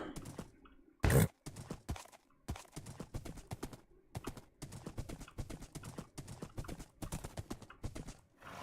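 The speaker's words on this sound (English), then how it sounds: "this entire journey of me riding back on the horse" Hooves of a ridden horse clip-clopping in Minecraft on the journey home: steady rhythmic clopping in repeated runs with brief pauses, close and clear, plus one short loud burst near the start and no talking.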